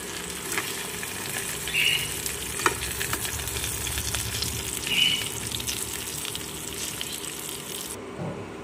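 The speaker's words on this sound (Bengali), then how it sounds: "ফোড়নে দিয়ে দিচ্ছি গোটা জিরে, শুকনো লঙ্কা।" Whole cumin seeds and dried red chilies sizzle steadily in hot oil for a potato and pointed gourd curry. The frying hiss is close, continuous and even, with a few faint clinks, and it cuts off near the end.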